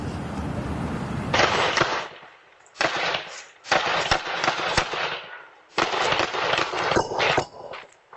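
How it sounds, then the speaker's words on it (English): Gunfire picked up by a Ring doorbell camera at night: loud bursts of rapid shots in several clusters, separated by short pauses, with sharp cracks ringing out against a quiet street. "A Ring doorbell capturing the sound of more than 10 gunshots"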